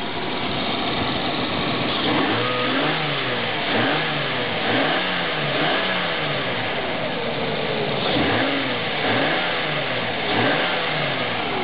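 Car engine converted with an alternative fuel kit, idling low and then revved repeatedly, each rise and fall of revs recurring about every two seconds, loud and close, with no talking.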